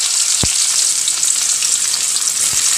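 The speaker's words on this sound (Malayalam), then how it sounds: "അപ്പോൾ നമ്മളുടെ പാവയ്ക്ക വറുത്തെടുക്കാം" Bitter gourd frying in oil in a pan for pickle, a steady dense sizzle throughout with a couple of brief low knocks, close and fairly loud, no voices.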